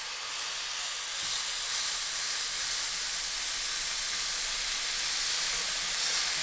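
A smash burger patty pressed flat with a pot sizzles on a hot surface at a cabin, a loud steady frying hiss that carries on unbroken with no voices.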